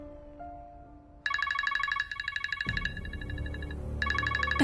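Mobile phone ringtone chiming in a repeating electronic pattern indoors, loud and close, starting after a quieter stretch of background music and low rumble, with brief pauses between bursts.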